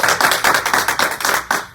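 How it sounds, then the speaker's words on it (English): An audience claps steadily in quick, even bursts, a short round of applause close by with no talking. "Y'all can clap if you want to."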